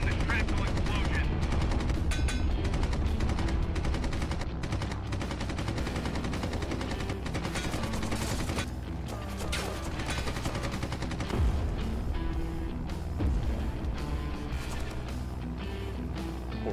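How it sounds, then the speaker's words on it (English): Artillery and gunfire in the aerial combat game Red Wings: American Aces, a loud continuous barrage of rapid bursts and booms that runs throughout, dense and layered with game noise. "The artillery is firing!"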